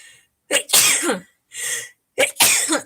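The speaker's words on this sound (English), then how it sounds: "I gotta sneeze" A short series of sneezes: a quick sharp burst, a longer explosive one, a softer sniff-like breath, then two more forceful sneezes in a row.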